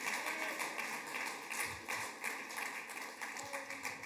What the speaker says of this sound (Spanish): aplauda si va a aplaudir, pero hágalo con ganas